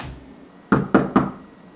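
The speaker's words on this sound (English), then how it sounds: "Who could be knocking at our door?" Three sharp knocks on a door in quick succession, evenly spaced and fairly close, with a quiet room before and after.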